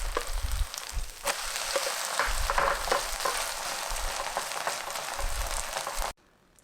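A crisp chive and chili pancake fries in an oiled pan, giving a steady close crackling sizzle throughout with no talk, then cutting off abruptly near the end.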